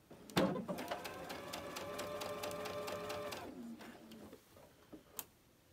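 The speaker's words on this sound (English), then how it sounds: "you're going to take it over to the sewing machine and we're going to sew it" A Baby Lock sewing machine stitching fabric, a rapid even mechanical whir and tick that starts with a clunk, runs steadily for about three seconds, then slows and stops, followed by a faint click.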